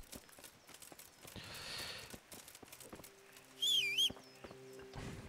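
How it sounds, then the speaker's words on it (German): A horse in the medieval role-playing game Kingdom Come: Deliverance makes quiet, uneven clip-clop hoof steps over a low outdoor ambience, followed by a short whinny-like call and a sustained tonal game sound. "Pferd."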